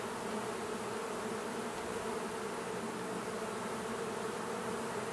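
Honey bees swarm loudly around a beekeeper's veil during a September hive check, a dense, continuous close-up buzz that holds steady throughout with no voices.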